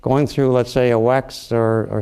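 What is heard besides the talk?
No distinct noise like a dog, phone or traffic.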